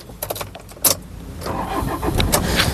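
A 2015 Toyota Innova 2.5 V is started with a single turn of the key. Keys jangle first, then the starter cranks briefly before the engine catches and settles into a steady close idle.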